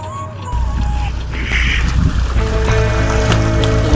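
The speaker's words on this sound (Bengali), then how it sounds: "আমাদের বোট চলছে, আমাদের বোট এখন চলছে সামনের দিকে" A boat under way on a river in the Sundarbans, its steady engine drone and water rush carrying on continuously and fairly loud, with a brief higher tone near the start and wind noise mixed in.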